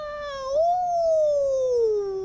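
A single long, drawn-out meow at a cat show rises and then slowly falls in pitch over about two seconds, clear and close with no talking.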